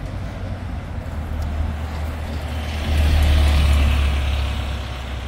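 A Sullivan Buses bus at Elstree & Borehamwood Station, its diesel engine idling with a low rumble that swells in the middle and eases off, heard over steady ambient street noise.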